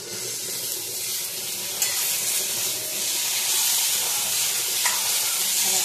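Chopped tomato sizzles loudly in a hot pan, a steady close-up frying hiss with occasional stirring scrapes and no talking.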